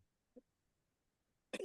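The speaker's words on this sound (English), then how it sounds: "I just got rid of my cough a few weeks ago and it's coming back." A single short, close cough bursts out near the end, preceded by a faint throat sound, in an otherwise quiet room.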